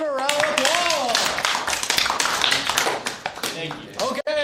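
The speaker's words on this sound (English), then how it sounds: "Everybody give a round of applause." A classroom of cadets breaks into a short round of applause, with dense clapping from many hands heard close and mixed with voices and cheering.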